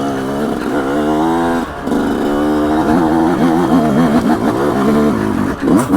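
A Yamaha YZ125X two-stroke dirt bike revs loudly and close up, its pitch climbing and dropping in repeated sweeps as it shifts through the gears, with a brief dip in between. Nobody speaks over the engine.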